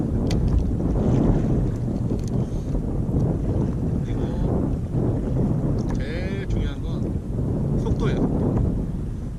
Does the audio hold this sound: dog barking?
no